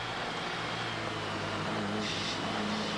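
A car accelerating on a high-speed drive through Stockholm, a steady engine drone with road noise that rises slightly in pitch toward the end, heard from inside the vehicle with no talking.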